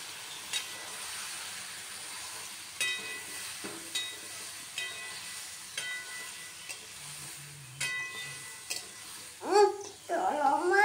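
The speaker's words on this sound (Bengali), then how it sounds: "এই দেখুন ভালোভাবে নেড়ে চেড়ে এবার নামিয়ে নেবো" Potato, pointed gourd and okra stirred in a pan with red lentils, quiet scraping strokes repeating every second or so over a soft sizzle, with a brisker burst of stirring near the end.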